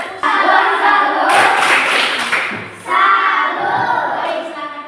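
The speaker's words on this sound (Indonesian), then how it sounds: "Kita berikan tepuk salut kepada kelompok 2. Tepuk salut." Classroom group of students claps together in a brief burst of applause for a presenting group, loud and close, fading slightly before a second round of clapping.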